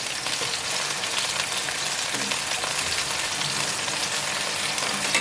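Al dente spaghetti tossed into a pan of garlic oil for aglio e olio gives off a steady, moderate sizzle and crackle with no talking.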